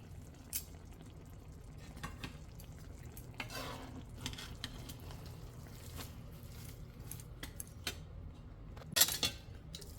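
Khichuri being stirred and turned over in a cooking pot, with steady soft scraping and clinks of a spoon against the metal, plus a sharper knock near the end; no talking.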